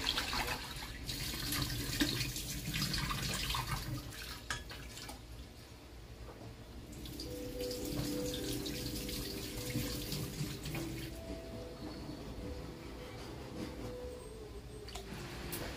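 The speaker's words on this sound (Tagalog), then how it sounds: "Meron akong 2 cups ng glutinous rice. Yan, hugasan lang natin 2 times." Two cups of glutinous rice being washed under running tap water in a kitchen sink, a steady splashing stream with sloshing and dripping, close and continuous, easing briefly midway before flowing again.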